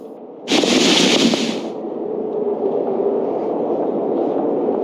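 Fireworks in the video game Genshin Impact: a sudden loud crackling burst that fizzes for about a second, then fades into a sustained rumbling wash of noise.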